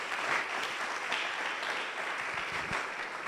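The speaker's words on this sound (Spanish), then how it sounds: "¿podemos dar un fuerte aplauso al Señor?" A church congregation at a Sunday service claps in a steady, dense burst of applause that fills the whole stretch, heard at a moderate distance and with no speech over it.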